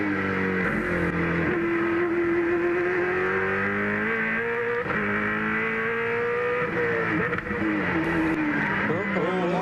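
A Holden Commodore V8 Supercar engine screams onboard at Hidden Valley, rising and falling through gear changes at high revs, loud and continuous, with commentators talking over it.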